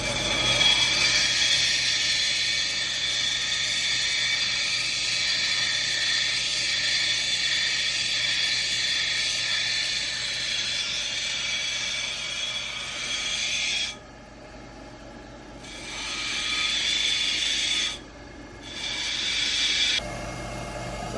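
Obsidian grinds against a wet grinding wheel while being beveled, a steady, loud, hissing whine that drops out briefly a few times as the stone is lifted off.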